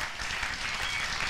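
Steady applause from a congregation at a Christian revival service, dense and continuous throughout with no voice on top.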